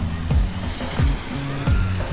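Surf washing ashore at Twin Beach, a rocky shoreline with a few resorts, heard as three rolling swells breaking in steady succession over a constant low roar of sea and wind.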